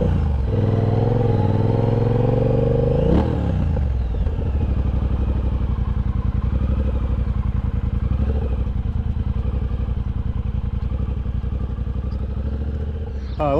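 Triumph Bonneville Bobber 1200cc parallel-twin with a 270-degree crank, idling with a steady lumpy throb, then blipped sharply once around three seconds before settling back to a loud, close, rumbling idle with faint clatter.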